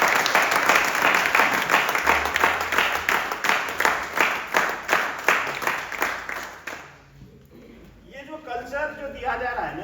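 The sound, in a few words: audience applause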